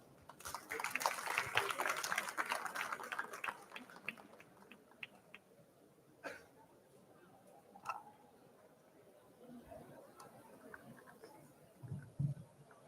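An audience at the VJTI annual alumni reunion breaks into a burst of applause that is dense for a few seconds and then thins out into scattered claps and faint room noise.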